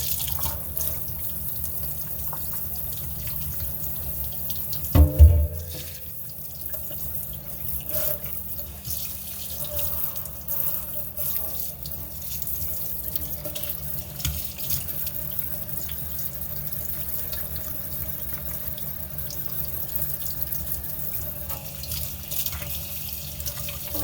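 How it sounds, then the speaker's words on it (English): Water running from a low-pressure faucet over Berkey water filter elements being rinsed clean on a boat, a steady soft stream with a brief louder splash near the start and a few faint drips and clatters. "run them under water."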